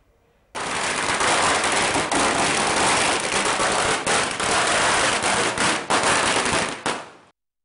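A long string of firecrackers bursts at a bus stand street celebration, a loud, dense, unbroken crackling barrage lasting several seconds before cutting off abruptly.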